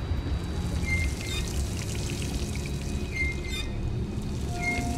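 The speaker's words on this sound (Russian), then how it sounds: "я просто открываю кран" Water runs from an opened tap in the video game Dishonored, a loud, continuous pouring splash with faint tonal game sounds in the background.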